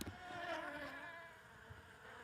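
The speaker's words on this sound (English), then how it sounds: "The bees were still buzzing busily from flower to flower in the field." Bees buzz steadily through a field of flowers, a continuous close insect drone with shifting pitch and no voices.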